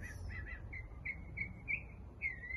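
Short bird chirps and whistles repeat over a steady low outdoor rumble, moderately close and fairly quiet.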